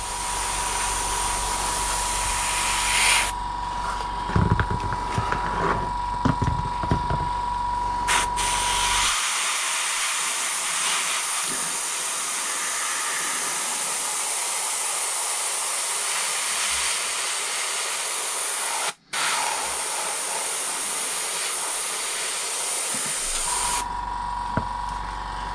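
An aerosol spray can laying a light coat of paint on a Kyosho Pegasus RC car body, a long steady hiss in bursts with brief pauses and faint handling clicks, close and continuous, no talk.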